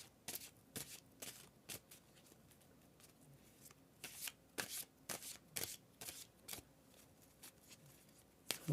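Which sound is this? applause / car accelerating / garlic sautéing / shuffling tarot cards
shuffling tarot cards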